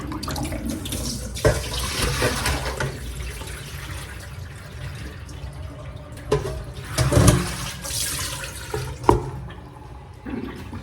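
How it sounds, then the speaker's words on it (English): Water pours and splashes through a colander draining vegetables, rushing in uneven bursts with clattering and sloshing close by, with no voices. "Now I'm going to put this back through the colander."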